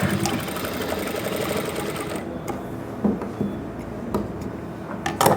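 A sewing machine stitches a seam on a salwar suit, running steadily for about two seconds before breaking into short, intermittent bursts and clicks up close.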